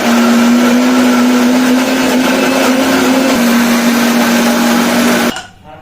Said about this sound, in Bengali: এটাকে এখন আমি পেস্ট বানাবো